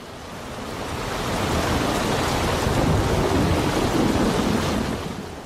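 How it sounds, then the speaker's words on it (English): Deep, continuous rumble of a stormy sea on a cold, dark bay, a broad roaring wash that swells in over the first second and a half, holds steady and loud, then eases near the end with no voices. "I could hear the rumble of the sea"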